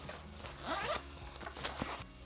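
A zipper on a mesh pocket inside a Tocode laptop backpack is pulled in a few quick, close rasping strokes, quiet and with no talking.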